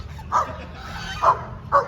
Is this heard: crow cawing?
no